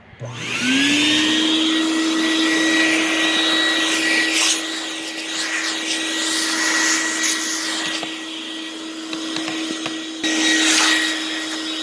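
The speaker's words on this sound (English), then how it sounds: "I've got my trusty little shop vac up here" A loud shop vacuum sucking up standing water roars steadily after a brief spin-up, its motor whine sustained close by with occasional gurgling and sputtering bursts.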